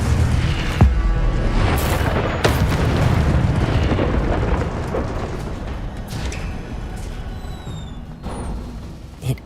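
Hogwarts Legacy combat: the Incendio fire spell erupts in a loud roaring blast, sustained rumbling fire and bursts filling the space, then fading with small pops and whooshes.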